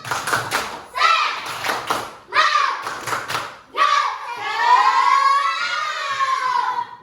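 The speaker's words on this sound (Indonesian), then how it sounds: "Tepuk tangan" Elementary schoolchildren in a classroom clapping in short rhythmic bursts between excited children's voices, then a longer stretch of kids shouting and cheering together.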